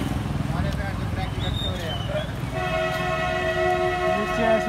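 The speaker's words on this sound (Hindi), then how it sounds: "ये अपना डीजल इंजन आया इसको निकालने के लिए।" A diesel locomotive sounds its horn in long sustained blasts while working near a river crossing, with rumbling engine and rail noise beneath, preceded by loud outdoor chatter from a watching crowd.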